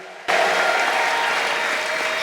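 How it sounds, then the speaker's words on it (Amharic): A church congregation bursts into loud, sustained applause, a dense wash of clapping that starts abruptly and holds steady at close range, with no clear voices over it. "ለጌታ ከፍ ያለ እልልታና ጭብጨባ።"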